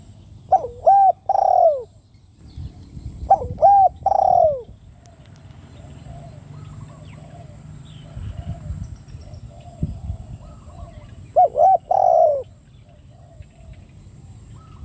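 A spotted dove coos in repeated short phrases near a dove-trapping site in Thailand: three clear bursts of soft, rolling coos, fairly close and loud, separated by quiet gaps with faint rustling in the background.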